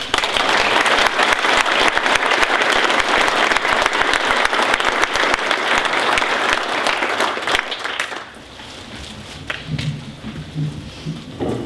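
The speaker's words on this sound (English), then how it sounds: "One round of applause, please." Applause in a town council meeting for newly elected council members, dense and loud clapping that fades around eight seconds into scattered claps and room noise.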